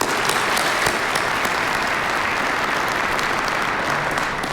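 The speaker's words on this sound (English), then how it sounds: "Again, a round of applause for President Bloomberg." A large crowd at the Cleveland State University doctoral commencement ceremony applauds President Bloomberg, a dense, steady roar of clapping that holds evenly for several seconds, loud and without speech.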